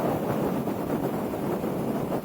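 Gusting wind roars across the microphone while riding a Moto Guzzi V9 Roamer motorcycle on a March road trip, a loud continuous buffeting rush with no break.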